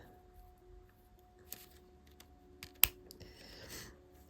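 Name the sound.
small scissors cutting goldwork metal thread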